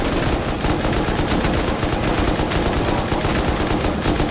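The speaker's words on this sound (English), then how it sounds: "I lit it up. I just put like 70 rounds in it." Sustained automatic gunfire in the survival game Rust, a dense rapid rattle of rounds poured into a helicopter, loud and continuous throughout with no talk over it.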